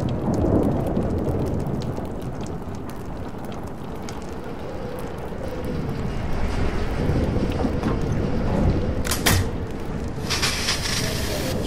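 Thunderstorm in the video game Life Is Strange on PS4, with heavy steady rain and deep rolling thunder rumbling throughout, loud and continuous, plus a sharper crackling burst near the end.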